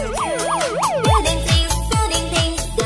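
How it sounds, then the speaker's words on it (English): A police car siren wails loudly and close, its tone sweeping up and down in quick, repeated cycles before switching to a faster, choppier yelp pattern with a low rumble beneath. "Police car."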